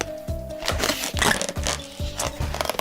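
A latex balloon twisted into balloon art of a bear holding a heart: squeaky rubbery twisting and rubbing in several repeated rhythmic bursts, close and fairly loud, with no talk over it.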